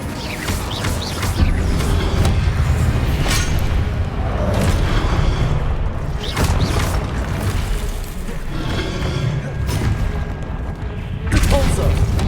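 Incendio fire spell cast in Hogwarts Legacy on Xbox Series X, bursting among repeated booming, crashing combat impacts over a steady, loud game soundscape, with a voice speaking.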